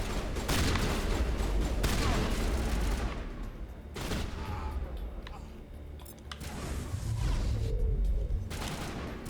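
Sustained gunfire from the video game Mass Effect, dense overlapping bursts that run almost throughout, easing briefly in the middle before picking up again, with talk mixed in.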